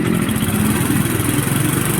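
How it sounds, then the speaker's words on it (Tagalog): A motorcycle engine blipped lightly above idle nearby, a loud throbbing mid-pitched putter with rapid pulsing firing beats, heard alone. "Ngayon nire-rev natin ng konti."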